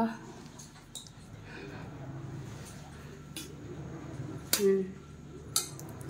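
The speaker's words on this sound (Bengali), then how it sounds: "এই যে রিমি ভাত বাড়ছে" Rice is served onto plates at a home meal, mostly quiet, with a few sharp clinks of dishes and cutlery and soft voices in the background.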